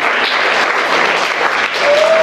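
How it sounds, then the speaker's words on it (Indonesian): Church congregation applauding loudly and continuously, a thick wash of clapping hands nearby, with a brief sustained tone rising near the end. "Tepuk tangan dulu buat Tuhan Yesus."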